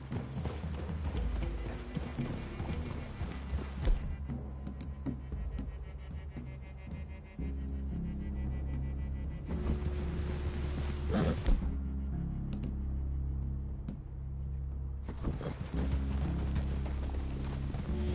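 Horses' hooves clip-clopping in Red Dead Redemption 2 near a forest clearing, steady and fairly close over a layered musical score and ambient game sound, with an occasional whinny.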